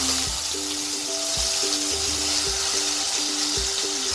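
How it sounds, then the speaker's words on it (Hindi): Tomato puree masala frying in a hot tempering for a no-onion, no-garlic cauliflower curry, a steady loud sizzle with faint stirring clinks throughout. "और इसे अच्छे से दो मिनट के लिए मैं भूनूंगी"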